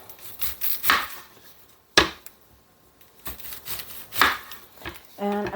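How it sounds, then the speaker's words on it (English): An onion being chopped with a knife on a cutting board, a few sharp, close thuds and slicing scrapes spaced irregularly, with a quick series of rapid cuts at the end. "So first we are going to chop up one onion"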